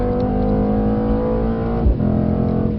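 A 630 BHP Mercedes-AMG GT accelerates on a track, its engine a loud, steady close roar with strong low rumble, a brief gear-change dip and surge near the end.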